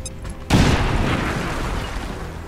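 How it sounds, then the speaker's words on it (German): A grenade blast in the turn-based strategy game XCOM 2, a sudden loud boom after a brief lull, followed by a long rumbling decay of debris and noise, with no talk. "Werfe Granate!"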